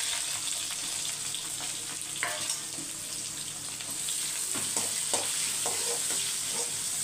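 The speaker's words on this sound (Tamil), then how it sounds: "பிரியாணிக்கு வந்து வெங்காயம் வதங்க கொஞ்சம் லேட்டாக தான் ஆகும்." Chopped onion sautés in hot oil for chicken biryani alongside bay leaf, fennel seeds and a green chilli, giving a steady close sizzle broken by occasional stirring scrapes, with no talking.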